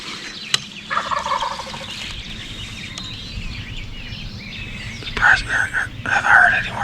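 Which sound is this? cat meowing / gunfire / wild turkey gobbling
wild turkey gobbling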